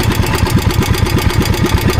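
A fishing boat engine runs on the Pacific at sea, a loud steady pulsing chug with fast regular beats close by and no talk.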